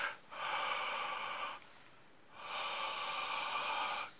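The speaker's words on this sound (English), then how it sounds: "Maybe if I take my specs off, and if I breathe on my glasses," Two long, steady breaths blown out onto a pair of eyeglasses, close and soft, separated by a short pause.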